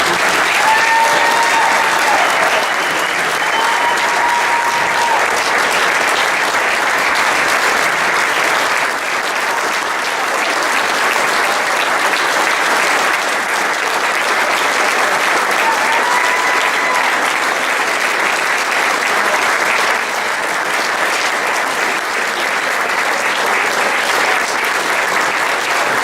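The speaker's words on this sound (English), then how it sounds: "please give a huge round of applause for Dan Montague" A large audience applauds steadily and loudly as a speaker is welcomed onto the stage at an award event, sustained clapping with no break.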